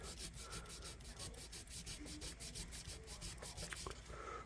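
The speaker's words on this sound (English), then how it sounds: "This sandpaper's getting used up pretty good, isn't it?" Sandpaper rubbed back and forth on an antique pocket knife blade, a quiet steady rhythm of short scratchy strokes, close-up with no voices.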